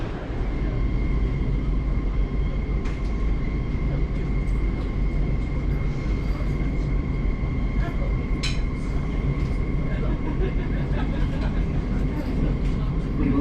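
Rumbling ride aboard a London rail train approaching Farringdon, with steady low carriage roar and wheel noise throughout, a tonal whine and a brief screech near the middle, with faint voices in the background.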